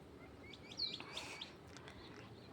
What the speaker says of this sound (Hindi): देखो ये चिड़ियाएँ खा रही इनको